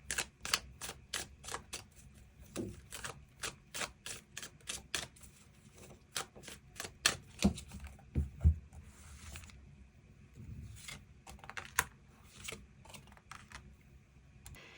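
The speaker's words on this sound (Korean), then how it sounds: "추가 카드로 너무나 운이 좋긴 하지만 그래도 나의 어떤 삶을 또 내가 원하는 바를 이루기 위해서 필요한 조언의 카드 무엇이 있을지 추가 카드 뽑아보도록 하겠습니다" Tarot cards are shuffled and drawn in a quiet room, producing a rapid series of crisp, close card snaps and flicks. The taps come in quick rhythmic bursts, with a few sharper knocks in between.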